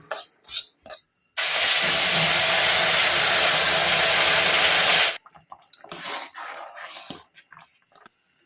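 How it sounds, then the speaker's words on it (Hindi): Water poured into hot roasted semolina for halwa hisses and sputters loudly in one sustained burst of about four seconds, then settles into quieter crackles and bubbling in the pan. "तो अब ऐड करते हैं सूजी में पानी।"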